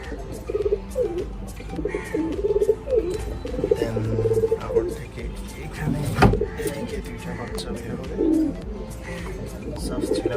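Pigeons coo steadily in a loft at feeding time, several birds layered close together with soft repeated murmurs, a sharp knock near the middle, and a person talking intermittently underneath.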